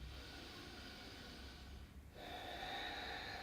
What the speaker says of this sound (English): So let's take some deep inhales and exhales.